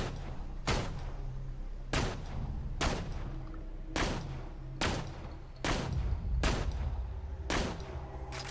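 Gunfire in the video game Borderlands 2: heavy, booming single shots at a slow, uneven pace, about eight in a row, each followed by a short ringing decay, with no talk.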